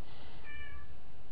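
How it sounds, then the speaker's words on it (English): A pet cat meows for attention, one drawn-out, fairly loud meow close by in a quiet indoor room. "that's my cat, my kitty cat, wanting some attention"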